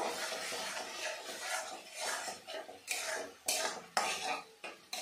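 Masala with ginger, dried red chilli and cumin is stirred in a pan, the spoon scraping and clinking repeatedly in uneven strokes over a soft sizzle, heard close and fairly faint.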